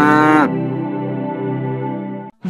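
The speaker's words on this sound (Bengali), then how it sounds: "সব দেখে বুড়ো গরু ধীরে ধীরে এগিয়ে এলো।" An old cartoon cow lets out a long, loud, drawn-out moo, steady and close, that trails off into a short pause.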